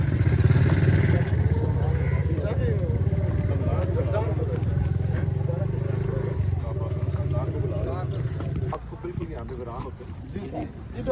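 Motorcycle engines idle and rumble close by as several people talk over them, the engine noise dropping off near the end.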